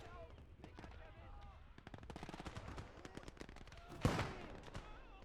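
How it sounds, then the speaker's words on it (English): Close machine-gun chatter in the Gates of Hell war game, then a single louder blast as a Panzerfaust strikes a building roof, with faint talk underneath. "we're gonna try to use our Panzerfaust"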